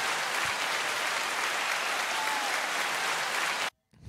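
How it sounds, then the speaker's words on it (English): Steady crowd applause rolls continuously at moderate volume, then cuts off abruptly near the end. "Give yourself a round of applause."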